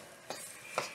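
Ginger and garlic frying in a wok for mapo tofu, a faint background sizzle broken by two quick stirring scrapes of a utensil, close and otherwise quiet.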